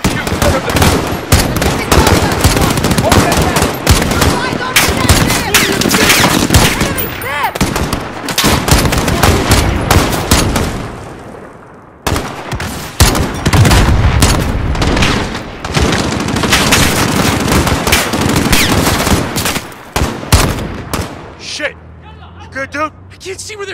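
Machine gun fire in Call of Duty: Modern Warfare during the Embassy mission: loud, sustained rapid bursts with booms and a brief pause, close and heavy, with shouting voices mixed in.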